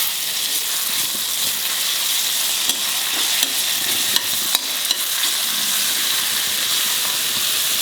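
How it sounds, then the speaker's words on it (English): Ginger garlic paste frying in a pan for a red masala egg curry, a loud steady sizzle close up with a few sharp scrapes and clicks of stirring throughout, no talk. "Fry it well."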